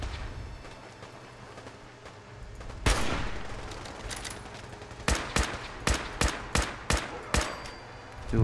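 Fallout 4 gunfire: after a quiet ambient stretch, one sharp shot cracks out, then a rapid burst of about seven loud, evenly spaced shots rings close by.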